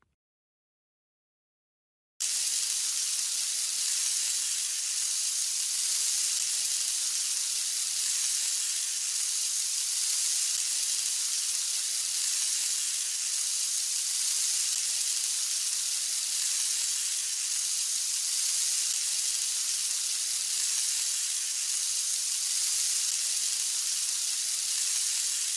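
Butter melting in a hot pan while cooking pancakes in a Curious George game: after a brief silence, a steady bright sizzling hiss starts and holds evenly and loudly to the end.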